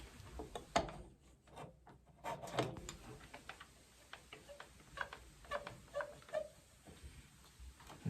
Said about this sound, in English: I put it up against the machine, and I'm just going to clamp it in there.